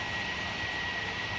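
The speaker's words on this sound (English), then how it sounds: "I got the fan on because it's mad hot." Steady broadband whoosh of an electric fan running close by in a hot kitchen, constant and unbroken with a faint tonal hum.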